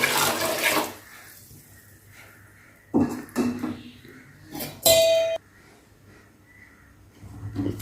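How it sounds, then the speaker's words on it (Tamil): Water is poured into a pot of mochai kuzhambu in short splashing bursts between quieter stretches, with a few clanks of pot or utensil nearby. "இந்த மொச்சை குழம்புக்கு தேவையான அளவு தண்ணியை வந்து நம்ம சேர்த்துக்கலாம்."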